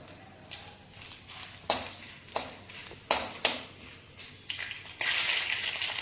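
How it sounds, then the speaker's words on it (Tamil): Chana dal (Bengal gram) fries in a pan with a light sizzle, broken by repeated sharp scraping knocks of a spatula against the metal, closing in a louder burst of frying. "கடலைப்பருப்பு போடுறேன். கடலைப்பருப்பு வறுகட்டும்."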